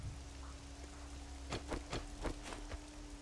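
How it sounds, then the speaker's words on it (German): Rain falling in the desert in the video game 7 Days to Die, a faint steady hiss of rainfall under a low hum, with several sharper patters in quick succession. "Weil es in der Wüste regnet."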